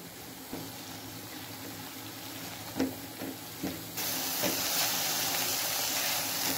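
Masala frying in a pan for Thai chicken vegetable soup, a continuous close sizzle and hiss with a few soft knocks of stirring, the sizzle swelling louder partway through.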